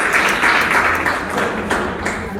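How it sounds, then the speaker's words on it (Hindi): A seated audience at a religious discourse claps together in a dense, steady burst of applause that holds at an even level for a couple of seconds. "बहुत अच्छा, ताली बजा दो इनके लिए।"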